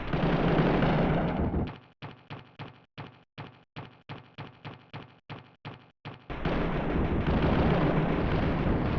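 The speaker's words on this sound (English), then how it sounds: "Alright, got some machine gun, I guess." Rapid machine gun fire in the MechWarrior video game: a steady loud roar gives way to about a dozen evenly spaced bursts over four seconds, then the dense, continuous din returns.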